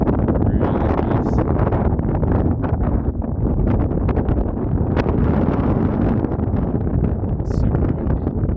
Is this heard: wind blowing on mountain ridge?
yes